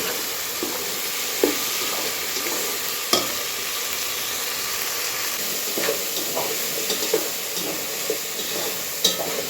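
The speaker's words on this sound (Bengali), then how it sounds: "ভালো করে যদি সবজিটা কষাই তাহলে খিচুড়িটা ভালো লাগবে" Vegetables and green chillies sautéing in a pan for khichuri, making a steady, even hiss of frying with a few faint utensil taps scattered through it, close and unbroken, with nobody talking.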